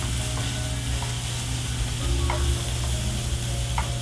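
Vegetables stir-fry with freshly chopped garlic for a quinoa vegetable melange, a close steady sizzle broken by occasional scraping and clinking stir strokes; no voices.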